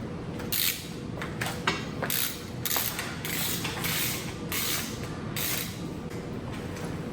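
A ratchet snugs case bolts on a Volkswagen engine being built up to 2332cc, with a series of short, close, regular clicking bursts between brief pauses.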